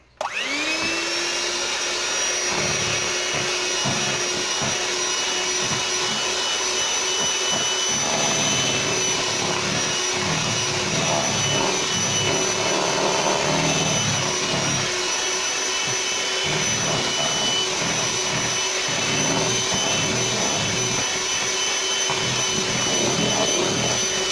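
An electric mixer beats blueberry cheesecake mixture after an egg is added, a loud continuous motor whir with a steady whine that runs without pause throughout.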